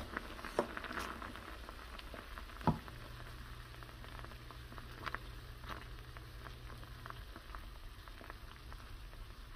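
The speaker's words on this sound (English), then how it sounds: "let the pan heat up with the oil, and we'll saute that down" Hot oil in a pan while cooking a ravioli dinner gives a steady, faint sizzle and crackle throughout, with a few louder pops and clicks scattered through it.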